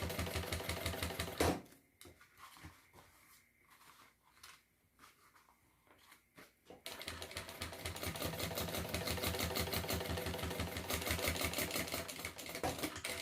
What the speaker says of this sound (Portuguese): Vou esticar tanto o principal quanto o forro e vou fazer um pesponto aqui de acabamento.